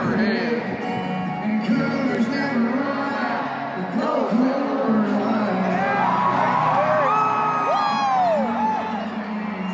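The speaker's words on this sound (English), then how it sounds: "listen to the reaction of the crowd" A concert crowd roars in reaction to a changed song lyric, sustained cheering, whoops and shouts filling the space continuously, loud and dense throughout.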